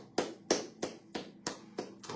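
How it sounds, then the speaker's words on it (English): A podcaster claps his own hands, seven sharp, evenly spaced claps in a steady rhythm, close and fairly loud with no talk over them. "So I'm clapping for myself"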